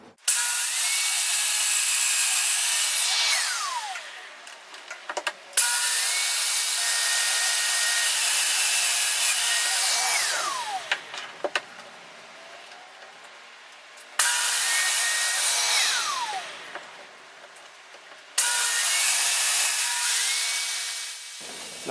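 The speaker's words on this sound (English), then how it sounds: "Now I'll domino the bottom of the case." A domino joiner plunges 6mm mortises 20mm deep into wooden case parts, giving four loud, sustained high-pitched motor whines, each cutting off abruptly, with brief quiet gaps between.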